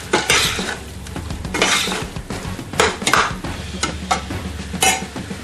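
A spoon stirs chili powder into a pot of chili, giving repeated scraping and clinking strokes against the pot with a light sizzle underneath, steady and close.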